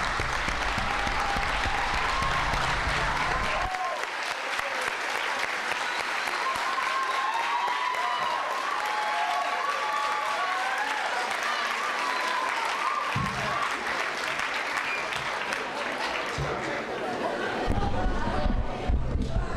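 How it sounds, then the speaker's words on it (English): An audience at a school board meeting applauds young people, a long sustained stretch of dense clapping from a sizable crowd with murmured voices and chatter underneath throughout. "Another round of applause, please, for the young people."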